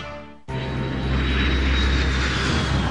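A jet engine aircraft roars in abruptly after a brief quieter moment and then holds a loud, steady, broadband whoosh with a thin high whine.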